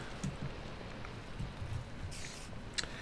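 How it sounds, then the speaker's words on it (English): Rain falls in the Minecraft video game as a steady, faint patter with a few soft drop ticks, and no voice is heard over it. "and get rid of the rain."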